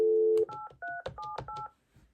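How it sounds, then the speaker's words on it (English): Keypad tones beep from the base of a Panasonic KX-TG5583 cordless phone: one long tone, then a quick series of short dialing beeps at close range before falling quiet. "So you can dial with not just the handset, you can dial for base as well."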